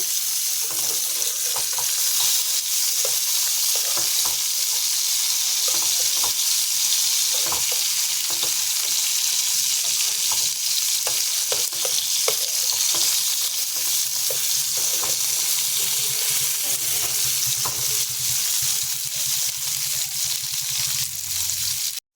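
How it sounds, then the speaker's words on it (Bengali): Salted, turmeric-coated eggplant slices fry in hot oil in a pan, a loud, continuous crackling sizzle broken by frequent scraping clicks as the pieces are turned and stirred. "এগুলো আমি উল্টে পাল্টে ভালো করে ভেজে নেব।"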